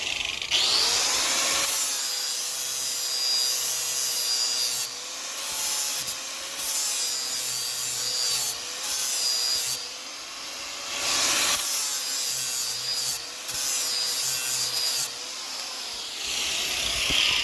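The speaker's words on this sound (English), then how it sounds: "when you're going to use an angle grinder, make sure that you use your eye and ear protection" An angle grinder sharpening a lawn mower blade: a loud, continuous high-pitched grinding whine runs almost throughout, briefly dipping and easing off a few times before resuming.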